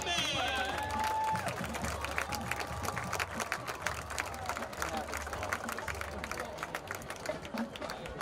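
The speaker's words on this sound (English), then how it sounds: "how about another round of applause for the Norwalk Warrior marching band?" Crowd at a high school varsity football game applauds the marching band at halftime, a steady spread-out clapping from the stands with cheering and crowd murmur, heard at a distance across the field.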